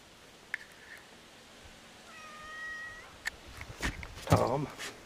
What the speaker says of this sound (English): Are you talking to me, Tom? Kitty? Tom's a talker.